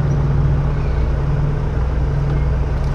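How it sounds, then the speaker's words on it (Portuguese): A truck's generator runs continuously in a truck workshop, failing to shut off after the engine starts; a loud, steady mechanical drone with a low hum persists unchanged throughout. "esse barulho que vocês estão escutando, talvez na câmera do lado de fora, é o gerador não está desligando quando dá a partida"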